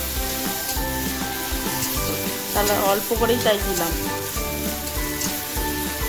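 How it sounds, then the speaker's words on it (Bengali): Steady sizzling of chopped onions and tomatoes frying in a little oil in a wok-style pan, with stirring scrapes and someone speaking briefly over it. "কড়াতে খুব কম পরিমাণ তেল দিয়েছি, দিয়ে পেঁয়াজ আর টমেটো কুচিটা দিয়ে দিলাম।"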